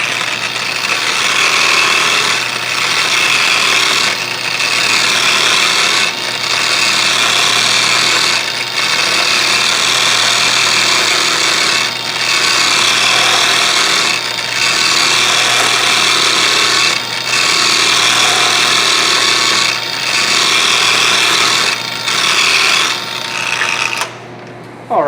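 A power tool finishes stainless steel, working slowly back and forth with a loud, continuous abrasive grinding hiss that swells and dips in regular passes, close up and without talk.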